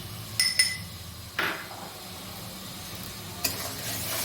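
Masala with turmeric, salt and chili powder fries in a pan, with a few sharp metal clinks of a spatula and soft scraping stirs over a faint, steady sizzle.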